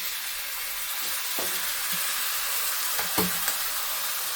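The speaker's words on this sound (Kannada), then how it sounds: "ಇವಾಗ ಸಿಮ್ಮಲ್ಲಿ ಇಟ್ಬಿಟ್ಟು ಪುಳಿಯೋಗರೆ ಗೊಜ್ಜನ್ನ ಹಾಕೋಣ" Puliyogare gojju paste with crisp coconut sizzles in a pan over a low flame for Melukote-style puliyogare, a steady soft hiss broken by a few light stirring clicks.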